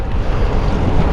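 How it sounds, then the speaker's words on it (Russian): Strong, steady wind buffeting the microphone during a long bicycle ride on a windy day, a loud continuous low rumble with no other sounds. "Хорошо, ветрено сегодня"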